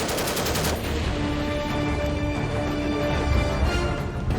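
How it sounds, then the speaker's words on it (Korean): Warning gunfire from the Korean navy destroyer Choi Young at pirates in the Gulf of Aden, including sniper shots. A rapid burst of shots opens loud, then fades into a sustained noisy rumble. "이어진 저격수의 위협 사격"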